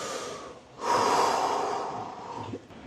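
A person doing breathing exercises takes one long, audible breath in and lets it out, close and quiet, followed by a short snort-like puff near the end.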